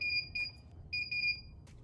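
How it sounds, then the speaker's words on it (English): Short electronic beeps from a sublimation mug press control panel, sounding at each button touch: two quick bursts, a pause, then two more, high and clear over a quiet room. "It does beep with every touch."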